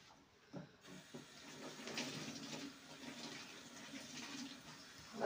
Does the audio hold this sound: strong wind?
no